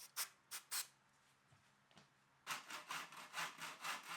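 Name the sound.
handsaw cutting wood mitres in a mitre box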